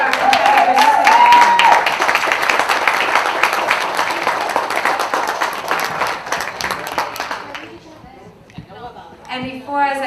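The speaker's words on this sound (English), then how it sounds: "Let's have a round of applause for all of our competitors today." Audience applause at a horse show for riders with disabilities, dense and loud clapping with voices mixed in, easing off toward the end as a few voices carry on.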